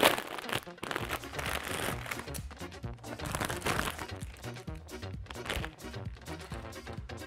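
Hands tear open the plastic wrapper of a Rollton instant noodle package. Close, irregular crinkling and crunching runs throughout without pause.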